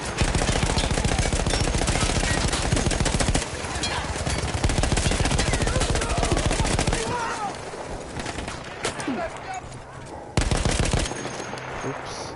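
Mounted machine gun fired in a PS4 video game, taken over from Austro-Hungarian troops: loud, dense sustained automatic bursts that ease into a sparser stretch before another heavy burst.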